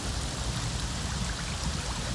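Steady nighttime rain falls in the game Avatar Frontiers of Pandora, a dense, even hiss of drops with a soft low rumble, continuous and unbroken.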